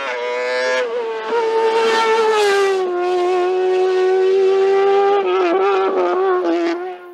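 A Speedcar GTR race car screams up a hill climb course, its high-revving engine loud and continuous with a rising and falling whine as it shifts, running alone for several seconds before easing slightly at the end.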